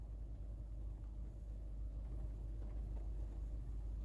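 A low, continuous rumble like a car's engine and road noise drones steadily throughout, with nothing else standing out.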